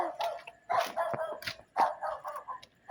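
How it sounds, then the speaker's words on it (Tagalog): A dog barks and yips in quick, uneven bursts, close by and fairly loud, with short pauses between barks, in a cemetery. "Tignan nyo, may aso pa."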